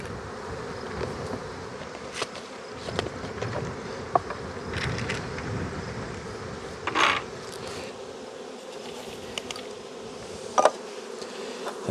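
Honey bees buzzing inside a mite wash cup, a faint continuous drone with scattered clicks and handling knocks, close and without talk.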